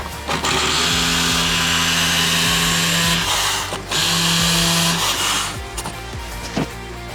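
A power drill drives a screw into brick and wood, whining loudly for two long bursts with a short pause between, then a few quick clicks and rattles as it stops.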